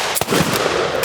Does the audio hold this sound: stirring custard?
no